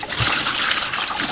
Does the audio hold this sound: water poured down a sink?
yes